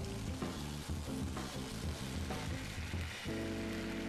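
Meat sears in a hot pan with sauce, a dense, continuous sizzle and crackle close by, shifting slightly as it is stirred, with a steadier hiss near the end and no talking.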